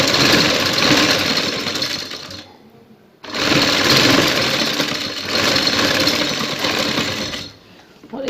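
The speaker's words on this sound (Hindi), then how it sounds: "इसी तरीके से दूसरी तरफ से सिलाई लगाएंगे।" A sewing machine stitches the round neckline of a qamiz, running in loud, steady bursts of continuous whirring with two short pauses between runs.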